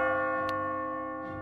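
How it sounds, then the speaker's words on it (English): A sustained tonal bell rings near a tower exit in the puzzle game Catherine Classic, a steady harmonic drone with a couple of soft strikes layered over it, loud and continuous with no talking. "As you near the top, you will hear a bell ringing."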